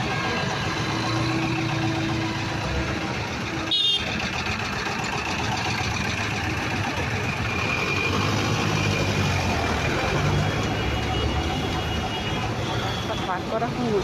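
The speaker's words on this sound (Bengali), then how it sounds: "রাস্তা জাম হয়ে গেছে" Vehicles sit idling in a road traffic jam, with a low, steady engine rumble filling the scene, a brief clunk partway through, and voices talking over the drone.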